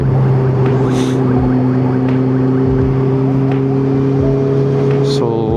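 A bus engine droning loudly and steadily nearby, with a low hum and rumble as traffic passes on the road.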